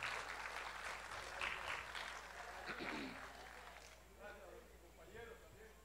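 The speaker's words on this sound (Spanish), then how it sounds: "Pedimos calurosamente las palmas para ellos en esta gran noche" An audience at a nighttime festival tribute to marimba players gives distant, steady applause, with voices talking over it as the clapping fades toward the end.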